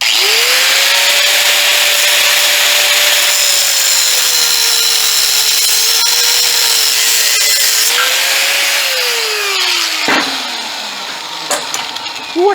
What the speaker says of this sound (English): Now I got to cut it to length.